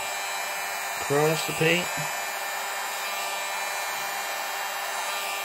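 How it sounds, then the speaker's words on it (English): A large hair dryer or leaf blower blows across wet acrylic paint in a fluid pour, giving a steady airy whoosh throughout, with someone speaking briefly over it. "Blow it out with this giant hair dryer or leaf blower I got."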